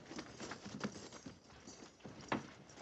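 Cavalry horses' hooves clip-clop and shuffle as a detail of soldiers dismounts, with soft patter and jangling tack, moderately loud and close, no voices.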